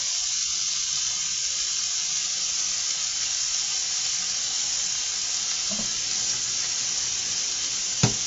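Vegetables cooking in a pan give off a steady, even sizzle that holds at a constant level throughout, with a faint stir or clatter near the end and one sharp knock close to the finish.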